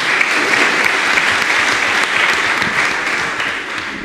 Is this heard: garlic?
no